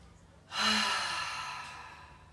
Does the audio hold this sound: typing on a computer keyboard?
no